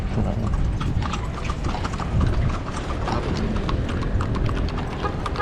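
Horse hooves clip-clop in a steady rhythm as a horse pulls a kalesa carriage through Manila streets, close and fairly loud over road noise, with a little talk.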